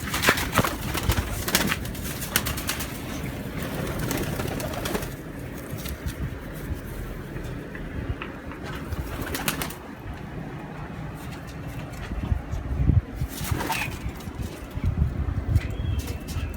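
Golden pigeons coo steadily in low, throaty murmurs, several birds overlapping at close range, with occasional wing flaps and rustling breaking through.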